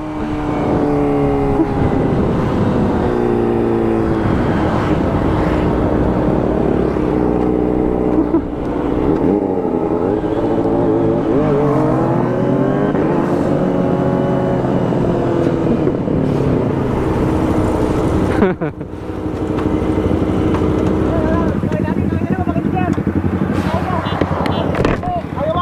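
A Kawasaki ZX25R motorcycle screams at high revs while speeding, its engine pitch rising and falling through gears continuously and loudly, with wind rush and a brief drop around the middle, while riders talk over it.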